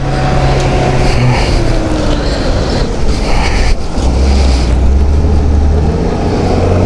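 A motorbike engine labours in first gear while climbing Zojila Pass at around 11,256 feet in sub-zero cold, a loud, steady low drone running throughout under constant wind and road rumble.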